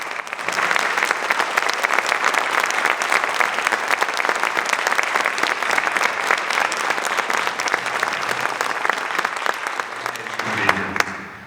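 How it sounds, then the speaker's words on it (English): Sustained applause from a large audience at a school foundation Hall of Fame ceremony honoring seven inductees, loud and steady for about eleven seconds before tapering off near the end. "please now join me in giving these 7 outstanding individuals our final round of applause"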